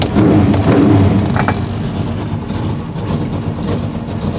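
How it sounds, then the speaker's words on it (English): A 1968 Chevelle 300 engine, heard up close, gets a short blip of gas that swells into a throaty rev, then drops back to an uneven low idle. "Give a little bit of gas here."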